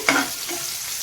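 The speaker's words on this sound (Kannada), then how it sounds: "ಈಗ ಸ್ವಲ್ಪ ಇದನ್ನು ಫ್ರೈ ಮಾಡ್ಕೋತೀನಿ ಎಣ್ಣೆಯಲ್ಲಿ" Chopped garlic and byadgi chilli hitting hot oil in a pan, with a sudden burst of sizzling that settles into a steady, close frying hiss over about a second.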